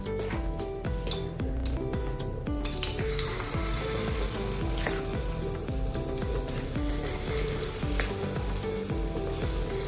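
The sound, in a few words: ragi dosa batter frying in oil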